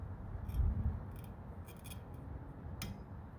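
A wiper blade slides off the J-hook arm of a Toyota Camry with a few short scraping, clicking plastic-on-metal sounds, close and fairly quiet.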